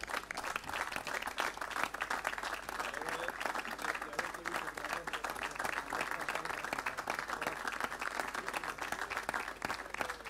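A crowd applauds as a member of a group is introduced at a performance. The clapping is continuous and even, fairly distant and soft, and holds steady for about ten seconds.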